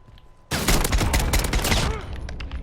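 Rapid burst of gunfire from a newly added gun in Modern Warfare, fitted with a sniper setup and long-range scope, erupting abruptly and loud after a quiet start, a fast string of shots with no talking.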